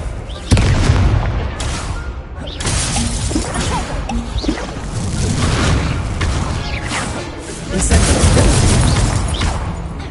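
Explosive Confringo spell blasts in the Hogwarts Legacy video game: dense, loud booms and crashing impacts follow one another amid constant combat clamor, with voices calling out in the game.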